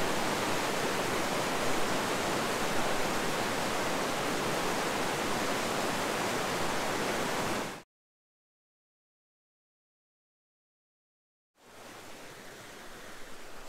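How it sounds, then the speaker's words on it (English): Rapids of Sand Portage Falls in Piers Gorge on the Menominee River rush in a steady, loud broadband roar for about eight seconds, cut to silence, then resume close by. "these 2 islands here, and these rapids are called Sand Portage Falls"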